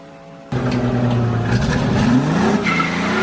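A car engine roars in suddenly and holds a loud, rising drone with tire noise as the tires skid and leave marks on the pavement, close by and steady.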